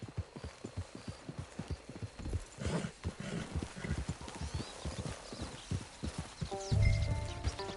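Horse hooves clip-clop at a steady walking pace in Red Dead Redemption 2 as the horse nears camp, close and clear. A brief whinny and some faint music come through near the end.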